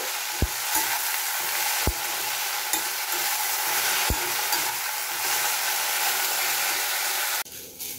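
Jute leaves seasoned with salt and turmeric are stir-fried in a pan, giving a dense continuous sizzle broken by a few sharp spatula clicks against the pan before the sound drops off abruptly at the end.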